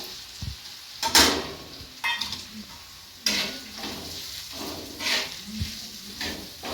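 Onion, tomato and spices frying in oil for a dry potato curry sizzle quietly under sporadic stirring scrapes and a few sharp utensil clinks against the pan.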